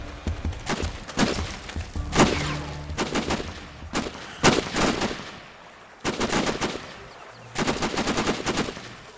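Bursts of automatic gunfire in Sniper Ghost Warrior, several rapid volleys and single shots cracking at varying distances across a jungle firefight, some close and loud, others farther off, with brief pauses between exchanges.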